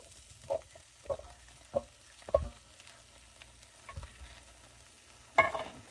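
Dark kidney beans are stirred into chili in a pot, with several soft, spaced scrapes and thuds of the spoon and a louder clatter near the end, all fairly quiet.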